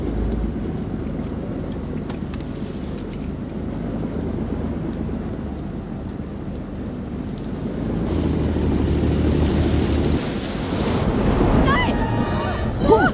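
Steady roar of wind and crashing sea waves in the video game Men of Medan, building louder toward the end with a few splashy bursts and faint voices underneath.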